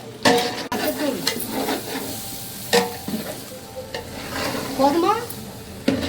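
Veg biryani being stirred in a pot for a puja meal, with irregular scraping and sizzling strokes up close and a brief spoken question.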